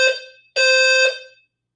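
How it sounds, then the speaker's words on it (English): A fire alarm sounds a loud, steady electronic tone in two blasts, a short one and then a longer one, each trailing off into silence. "Oh, shoot. Fire alarm."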